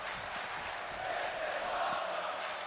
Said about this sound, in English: Hear the crowd? This is awesome.